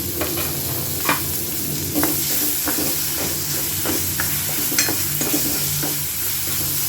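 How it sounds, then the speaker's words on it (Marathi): Chopped tomato sautéing in oil with green chilli and garlic for pithla, a loud, continuous sizzle close by, with regular stirring knocks and scrapes throughout. "टोमॅटो छान परतू द्यायचं आहे."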